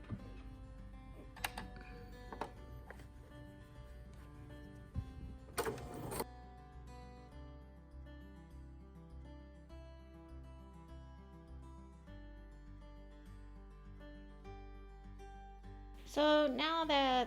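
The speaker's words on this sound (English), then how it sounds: "I'm going to sew it on with a straight stitch," A sewing machine running a straight stitch to attach a pocket on a tank top, a steady mechanical whir and ticking that shifts pitch partway through, with short louder bursts between runs.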